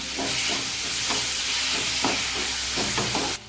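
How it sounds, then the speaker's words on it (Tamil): Onions and tomatoes sauté in a pan for a cabbage poriyal, making a loud, continuous close-up sizzle with a few soft scrapes of stirring, ending abruptly, with no talking. "இப்போ தக்காளி நல்லா வதங்கட்டும்."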